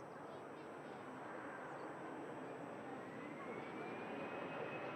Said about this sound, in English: We'll just briefly capture this touchdown for you, ladies and gents. Have this flight of Ryanair